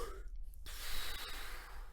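Shallow, high-chest breathing demonstrated for trumpet playing: a soft airy rush of breath that begins partway through and continues steadily, close and fairly quiet, with no talking.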